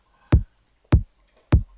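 Three evenly spaced hits of a layered kick drum, a 707 top kick stacked on a low booming bass kick, each a sharp click with a deep thump, punchy and close with silence between.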